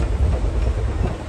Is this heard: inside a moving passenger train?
yes